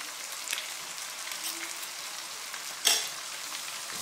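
Chicken curry with garlic, ginger and pounded salt frying in a pot while being stirred, a close, steady sizzle with scraping spoon strokes and a sharper clatter partway through.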